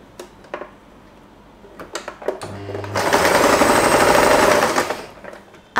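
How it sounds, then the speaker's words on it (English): A sewing machine stitches a fabric cover for a headband. A few light handling clicks come first, then one loud, close burst of rapid mechanical stitching lasts about two seconds before stopping. "I have finished sewing the headband."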